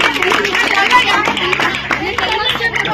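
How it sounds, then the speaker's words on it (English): A classroom of students claps together in a short burst of scattered applause, heard close and loud, with a teacher's voice talking over part of it. "Claps."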